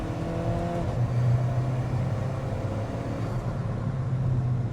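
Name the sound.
Alfa Romeo 4C turbo engine accelerating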